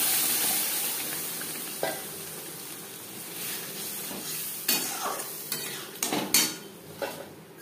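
Masoor dal tipped into a pan of sizzling fried garlic, giving a steady close frying hiss with several sharp scrapes and clinks of a spoon stirring against the metal pan.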